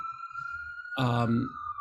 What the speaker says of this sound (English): my building is on fire, so we have a siren going on